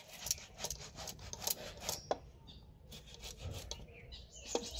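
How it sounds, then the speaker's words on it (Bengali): Boiled potatoes are grated by hand, a series of close, soft rasping strokes in an uneven rhythm, with faint kitchen sounds between them. "এই আলুগুলোকে আমি এবার গ্রেট করে নেব।"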